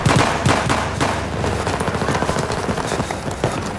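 Rapid automatic gunfire in the PC game Battlefield 3, with dense bursts of close shots that start loud and keep crackling steadily throughout.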